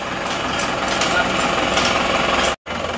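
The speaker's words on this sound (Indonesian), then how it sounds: "Suara mesin kedengaran halus ya, seperti ini suaranya." An Isuzu Panther diesel engine, freshly overhauled, runs steadily with an even, smooth hum and no stumbling, broken briefly by a short dropout near the end.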